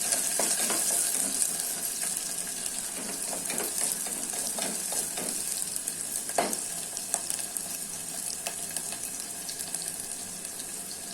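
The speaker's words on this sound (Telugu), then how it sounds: "ఉల్లిపాయలు ఉల్లిపాయలు వేయించుకోవాలి" Onions frying in hot oil with a little fenugreek in a pan, giving a loud, continuous close-up sizzle and crackle with occasional soft stirring scrapes throughout.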